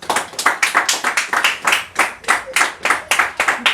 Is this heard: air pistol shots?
no